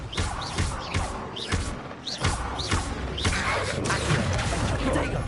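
An Expelliarmus disarming spell lands during a Hogwarts Legacy video game duel, amid a run of repeated thuds and whacking impacts at an irregular pace, dense and fairly loud throughout.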